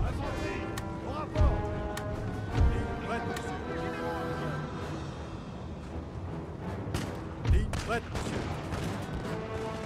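Scattered musket volleys crack out in the video game Napoleon: Total War during a campaign battle near Berlin, a few louder reports standing out over a continuous roar of combat and music.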